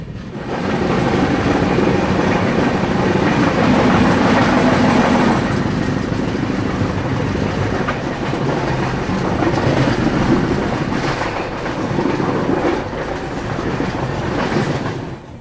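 Indore Daund Express, an ICF 110 passenger train, running smoothly on rails through dry hill country in summer, with a steady loud rumble and rhythmic clickety-clack of wheels throughout, no talk.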